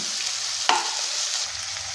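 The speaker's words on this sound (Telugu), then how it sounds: "ఒక 5 నిమిషాల పాటు ఫ్రై చేసుకున్నాము" Boiled broad bean (chikkudukaya) pieces fry in a pan with a steady, close sizzle and one sharp clack of a spoon partway through.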